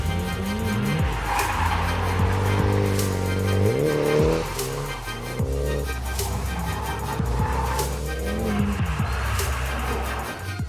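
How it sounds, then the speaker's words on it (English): A car shifting from first to second gear during an attempted drift: a loud engine revs and drops in pitch at the shift, then climbs again, with some tire noise, close and continuous. "That was the going from first to second gear, where she wasn't quite violent enough to actually initiate the drift."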